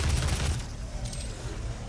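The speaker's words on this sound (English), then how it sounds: "apparently my machine gun is killing the possessed security pretty easily now" Rapid machine gun fire in the DOOM (2016) video game crackles in a dense, loud burst that thins out toward the end of the short stretch, with no voices over it.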